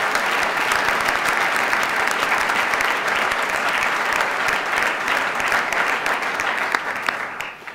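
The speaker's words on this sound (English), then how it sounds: "Please give them a round of applause for the great work they do." Large audience applauding the chief of staff and county administrator at the State of Orange County address in downtown Orlando, a dense, steady wash of clapping that fills the room for about eight seconds before thinning slightly.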